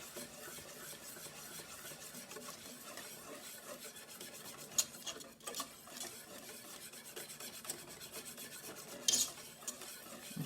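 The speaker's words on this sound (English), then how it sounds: "then I stir this in and have it melt" Cheese being stirred into hot milk in a pan to melt for macaroni and cheese: a steady, close scraping and rubbing with a few sharper clinks from the utensil, with no talk.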